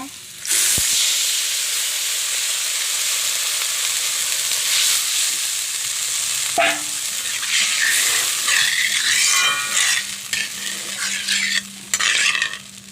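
Potatoes fried in spice paste in a pan hiss into a loud, steady sizzle as a little water goes in, with stirring scrapes and bubbling that rise and fall for several seconds, near and unaccompanied by talk.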